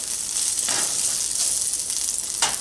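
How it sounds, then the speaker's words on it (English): Pulled pork sizzling and frying in hot oil while being stirred, a steady close crackle with brief scraping bursts of the utensil at intervals. "Keep heating up the pork while stirring it around in that oil"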